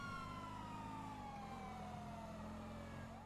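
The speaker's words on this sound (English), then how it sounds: "Oh no, I'm turning on my sirens." Police car siren wailing in GTA 5, a loud continuous rising and falling electronic tone over a steady engine drone, with no talk.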